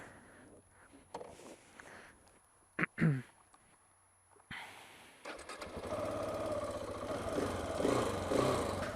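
A new motorcycle is started with the key: a few clicks and short whirring bursts, then the engine catches and settles into a steady, fairly loud idle that runs to the end.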